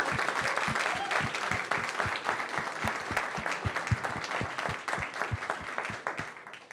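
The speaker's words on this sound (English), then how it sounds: "Another round of applause." Audience at a mayoral education event gives a round of applause, with many hands clapping steadily, some claps standing out close by, and the sound heard from a short distance with no talk over it.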